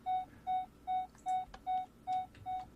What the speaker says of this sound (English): Why is it beeping so fast?